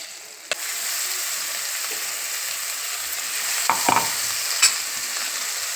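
Masala frying in a pan gives a steady sizzle, broken by a few clicks and scrapes of stirring, close and fairly loud.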